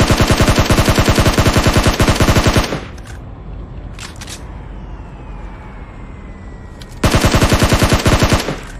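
Rapid automatic gunfire from the PUBG Mobile game rattles in two loud, fast bursts, with a quieter stretch between them holding a few distant single shots.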